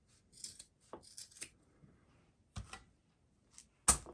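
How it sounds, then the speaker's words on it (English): Scissors snipping off excess sock fabric from a handmade gnome body, a few quiet, close cuts and rustles separated by short pauses, ending with a sharper snip. "I want to cut off some of this extra sock that I have on here"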